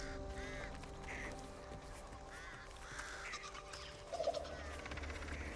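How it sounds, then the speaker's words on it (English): Crows cawing and fowl-like calls from birds in the video game Back 4 Blood, a steady scatter of harsh calls over a low ambient game soundscape, with a louder burst near the end. "Mind the birds."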